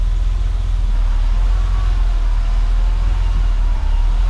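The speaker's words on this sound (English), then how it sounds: "Slipped it into second gear, and I'm going to slowly let out the clutch pedal down here." A BMW E30 in second gear as the clutch is slowly let out, giving a constant deep engine rumble and drivetrain hum that stays loud and unchanging throughout.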